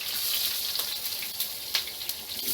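Onions sizzle in hot vegetable oil in a pan, a close, steady crackling hiss with scattered sharper pops throughout.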